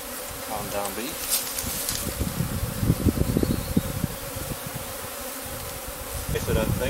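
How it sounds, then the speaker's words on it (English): A dense crowd of honeybees buzzes around a lifted hive frame, a constant close drone with individual bees swelling louder as they pass near. "Calm down, bee."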